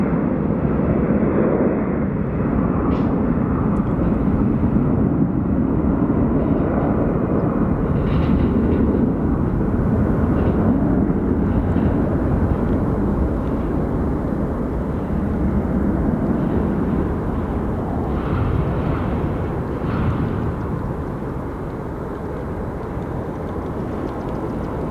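Airplane departing Phoenix Sky Harbor Airport, a loud sustained roar that builds and holds for a long stretch, then eases slightly near the end, heard from a distance with a broad rumble.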